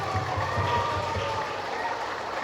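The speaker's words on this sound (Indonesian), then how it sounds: "Tepuk tangan yang meriah." Lively clapping from a school farewell ceremony audience, a dense patter of many hands with some voices mixed in underneath.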